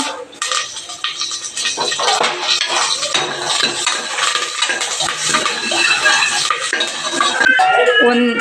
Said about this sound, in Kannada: ಇವಾಗ ಸಾಸಿವೆ ಸ್ವಲ್ಪ ಚಟಪಟ ಅಂತ ಬೇಯ್ತಾ ಇದೆ